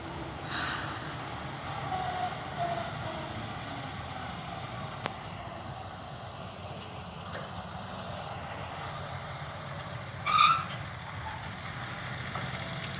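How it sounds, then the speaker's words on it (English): New Holland T7.210 tractor pulling a baler during harvest, a steady low engine rumble and rolling machinery noise throughout, with a brief louder clank near the end. "T7 210. Comes the baler again."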